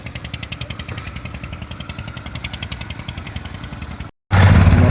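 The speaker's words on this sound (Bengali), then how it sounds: "মোটরসাইকেল নিয়ে যাওয়া যাচ্ছে মোটরসাইকেল নৌকায় তুলে নেওয়া হচ্ছে" A motorcycle engine putters at a ferry ghat on the Ganges as the bike is loaded onto a ferry boat, a rapid, even chugging pulse close by, then a brief cut and a louder low rumble.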